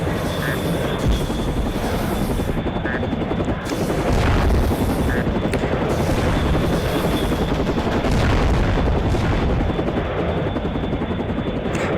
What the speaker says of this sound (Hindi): अब इसने एक बॉम्ब का भी यूज किया है जो कि तबाही मचाने के लिए पर्याप्त है।